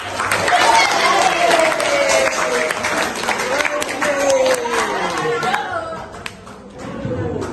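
Sixth-grade students clap in a classroom after a group presentation. The lively applause is mixed with excited young voices and shouting, stays steady for about six seconds, then thins out.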